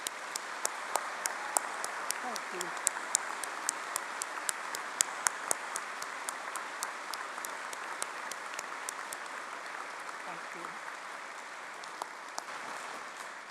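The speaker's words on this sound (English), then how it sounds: "let's have a round of applause for the OU's fantastic teaching staff" Audience applauding the teaching staff at an Open University degree ceremony in London, a steady sustained clapping from a large hall crowd that runs throughout, with a brief spoken thank-you over it.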